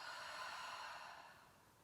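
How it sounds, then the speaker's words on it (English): A slow, steady exhale during a calm bedtime yoga breathing exercise, a soft airy hiss that fades gently over about two seconds, close and quiet with no talking. "breathing out for 4 counts"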